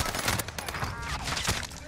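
Rapid bursts of automatic gunfire from the Call of Duty Warzone game crackle loud and close, packed tightly in overlapping volleys with a voice faintly mixed in.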